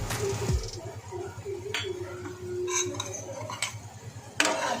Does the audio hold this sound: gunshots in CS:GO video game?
no